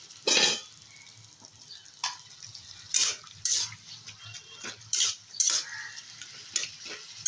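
Pointed gourd sizzles in a hot pan after a little water is added, with sharp bursts of hiss and repeated metal-on-pan stirring scrapes at an uneven rhythm, close and clear with no talking.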